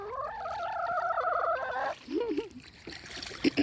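A pet hen, a chicken named Sapphire Gem kept alongside ducks, gives a loud, close run of wavering calls lasting about two seconds, followed by a few softer clucks and short rustles.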